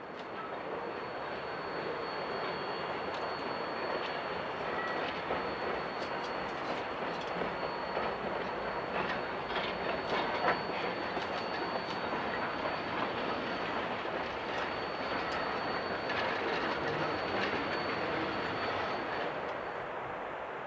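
A steam locomotive hauling a train runs steadily along a mountain railroad high above a river, a continuous rumble and clatter with a faint high whine, no voices.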